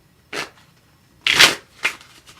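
Three quick bursts of tarot cards being shuffled poker-style, a soft riffle, a louder fuller riffle, then a short final flutter, close and alone in a quiet room.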